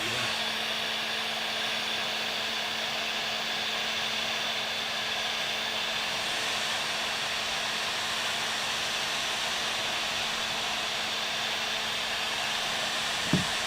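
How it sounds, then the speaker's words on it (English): A heat gun blows hot air to shrink adhesive-lined heat shrink tubing while a battery is set up in a workshop, giving a steady, loud, unbroken whooshing roar close by with no speech. "Put my heat gun here."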